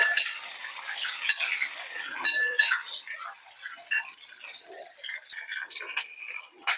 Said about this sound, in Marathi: आता मिरची थोडी भाजून झाली की आपण त्याच्यामध्ये 2 उभे चिरलेले कांदे घालून घेऊ आणि लालसर कांदा परतून घेऊ.